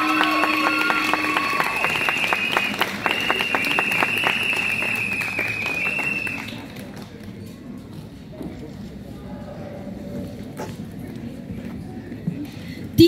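Applause and crowd noise from an audience at a school class event for grade XII B, loud and busy for about six seconds before dropping away to quieter room sound.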